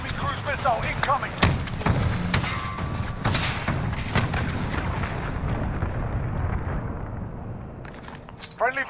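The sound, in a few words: cruise missile strike explosions in video game Modern Warfare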